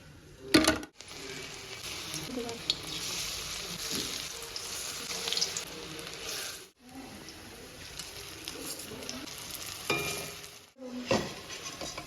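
Taro flowers sizzle as they fry in a pan and are stirred now and then. The steady crackle is broken by short scraping stirs and brief drop-outs.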